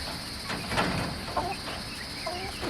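Hens scuffling and clucking close by, with short fowl calls and soft flutters over a steady background hum.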